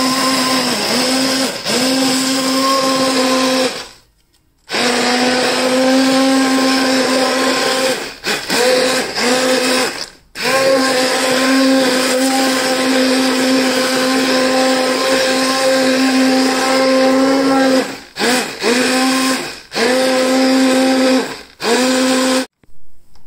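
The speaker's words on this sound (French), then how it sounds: "Je vais mixer les tomates." An immersion hand blender purees tomatoes for homemade ketchup with a loud, steady motor whir that runs in long bursts, broken by a few brief stops and short stutters.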